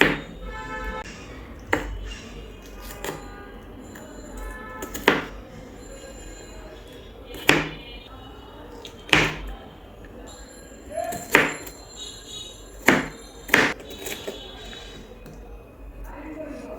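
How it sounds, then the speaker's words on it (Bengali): A knife finely chops onions on a board in a home kitchen while making chicken curry. Sharp, separate knocks come at an irregular pace, roughly a dozen over the stretch, against a quiet room. "এখন পেঁয়াজগুলোকে কুচি কুচি করে কেটে নিব"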